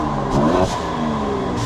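The rear exhaust of a Mercedes C43 AMG V6 gives a short, close rev, with a throaty rise in pitch that settles back to a steady rumble.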